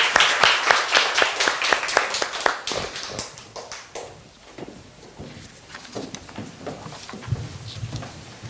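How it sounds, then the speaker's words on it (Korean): Applause from a church congregation at a Sunday worship service, a burst of many hands clapping that starts loud and dense, then thins into scattered, softer claps over several seconds. "우리 하나님께 영광의 박수 올려드리겠습니다."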